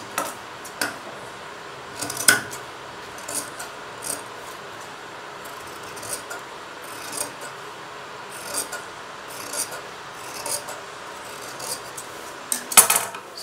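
Scissors snip through blouse fabric, shaping it into a diamond, heard as a series of light, close cuts and rustles repeating steadily, with sharper snips near the start and end.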